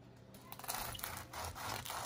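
A crunchy fried spring roll with BBQ pork, shrimp or ground pork filling crackles and rasps close up as it is bitten and chewed, a quiet run of brittle crunches.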